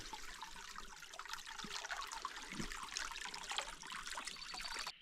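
Creek water trickles and burbles over a quartz stream bed in a remote Australian outback forest, a soft continuous wash of faint splashes with no voices.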